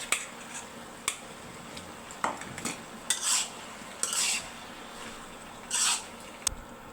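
A spoon stirs potatoes, beans and finely chopped tomato in a pot, making soft, scattered clinks and scrapes against the metal over a faint, low simmer.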